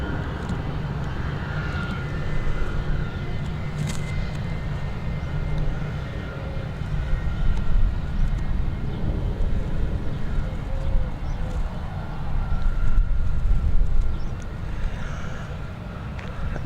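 Jet engines of an Airbus A320 airliner departing London Gatwick airport produce a continuous broad roar that rises and falls in waves, heard at a distance through wind noise.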